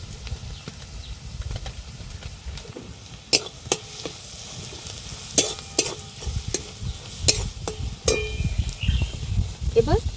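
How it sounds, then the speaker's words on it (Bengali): Onion and garlic fry in a pan as chili powder goes in, with a low continuous sizzle broken by sharp clacks of a spoon stirring against the pan, and no speech. "পেঁয়াজ রসুনটা হালকা করে ভাজা হয়ে গেছে। 1 চামচ গুঁড়ো লঙ্কা দিয়ে দিচ্ছি"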